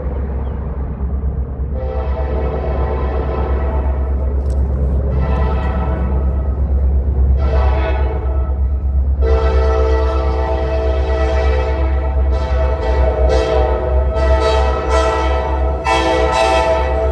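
The CSX M558 freight train rumbles past on the old B&O line with a heavy, continuous low roar, while its loud horn sounds in several long blasts and shorter toots over the passing cars.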